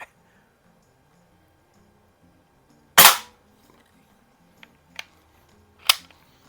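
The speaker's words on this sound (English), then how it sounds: "But I love shooting these cans." Benjamin 352 .22 caliber 8-gram CO2 rifle shooting cans, one sharp loud shot near the middle followed by fainter snaps and another crisp shot, with quiet gaps between.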